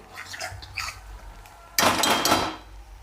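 A mixer grinder jar is rinsed: light clinks first, then a loud, close splash and clatter lasting under a second before it fades.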